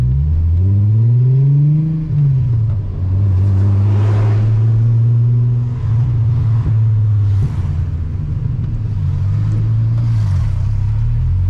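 A six-cylinder Volkswagen Golf revs hard under heavy acceleration, its engine note climbing and falling in a loud, continuous roar with rising harmonics and a few brief gear-change dips, with no voices.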